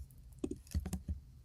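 A few quick key presses on a Mac keyboard, shortcut taps that land as soft, close clicks in a brief cluster, with no talking.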